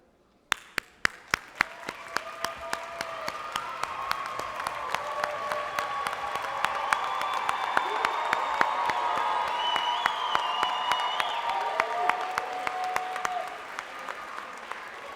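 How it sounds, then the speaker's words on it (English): A high school graduation audience stands and applauds the graduates, sparse early claps swelling into steady, sustained applause from a large crowd with a few cheers, continuing for the full length. "So to the graduates, let us all stand and applaud them."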